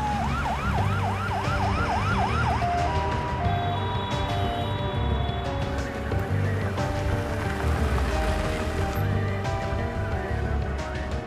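An ambulance siren wails loudly and continuously, starting with rapid rising-and-falling yelps that shift into a steadier two-tone pattern, close by over a busy background of street noise.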